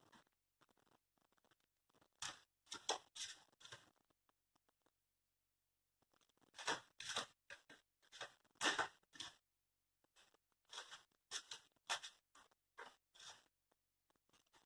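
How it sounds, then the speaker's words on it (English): Tarot cards being shuffled by hand, soft riffling and flicking bursts in several bouts with short pauses between, close and quiet. "I am shuffling cards for pile number 1"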